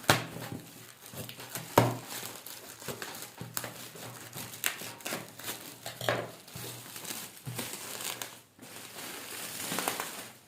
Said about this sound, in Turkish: Poşetini bir açalım.